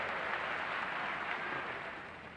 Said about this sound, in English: Crowd appreciating that very quick exchange.